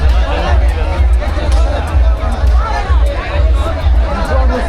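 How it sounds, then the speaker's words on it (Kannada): Large crowd gathered at the Mysuru Dasara Gajapayana elephant procession, a dense, steady hubbub of many voices chattering close by with a constant low rumble beneath. "ನೋಡಿ ಆನೆ ಬಂದ ತಕ್ಷಣ ಎಂಥ ಜನ ಕ್ರೌಡ್ ಬಂದಿದ್ದಾರೆ ಇಲ್ಲಿ."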